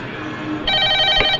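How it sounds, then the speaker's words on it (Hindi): An old landline telephone bell rings in a short, bright metallic trill that starts abruptly after a moment of low background sound and carries on for under a second. "शुभ मुहूर्त पर शुभ घंटी बजी है"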